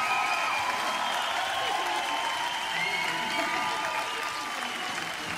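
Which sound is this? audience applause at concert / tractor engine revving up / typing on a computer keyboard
audience applause at concert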